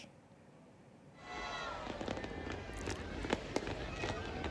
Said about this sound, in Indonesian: perayaan malam pergantian tahun di Medan, Sumatera Utara digelar dengan pesta kembang api